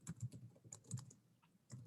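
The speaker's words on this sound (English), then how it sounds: "I'm going to wait for you to finish typing the question" Quiet, irregular keystrokes on a computer keyboard tap in short bursts and pauses, close and soft, with no talking over them.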